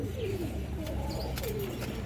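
Pigeons at a farm keeping silver bhaga and khaki pigeons, a few soft low coos repeating close by over a constant background hum, with no talking.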